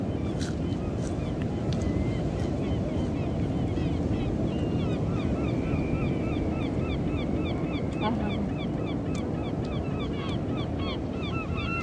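Steady, roaring wind buffets the microphone at a beach, with faint chirping birds in the background and no pauses throughout.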